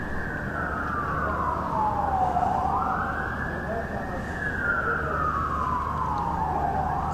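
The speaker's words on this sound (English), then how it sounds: "I can hear an ambulance" Siren of an ambulance or other emergency vehicle rising and falling in long slow sweeps, steady and moderately distant over a constant low city rumble, alone without talk.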